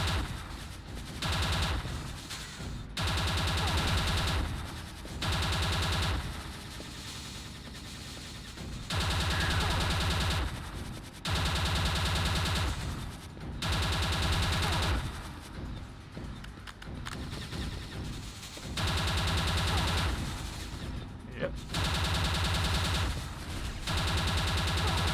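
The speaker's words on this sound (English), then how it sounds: "My own weapons make so much noise I can't tell if I'm being shot." Weapons fire nonstop in the game Quake II: Ground Zero during an attempt on the Black Widow boss, loud rapid bursts and heavy blasts coming in repeated chunks separated by brief lulls, with no talking.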